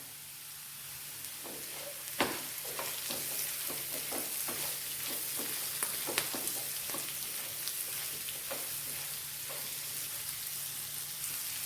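Bitter gourd with curry leaves sautéing in a pan for pickle, a steady broad sizzle with scattered crackles and spatula scrapes throughout, close and alone.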